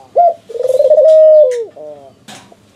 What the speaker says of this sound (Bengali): আর দেখেন ডাকতেছে, কেমন ডাকে দেখেন।